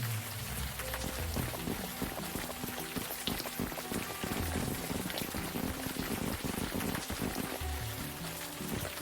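Steady rain falling in the adventure game Unavowed, a dense, even hiss of drops pattering on surfaces that continues unbroken at a moderate level with no talk over it.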